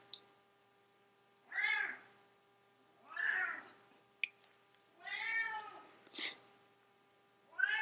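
A cat meows from behind a closed bathroom door, four drawn-out, wavering cries spaced a second or two apart, fairly close and clear, with no voices.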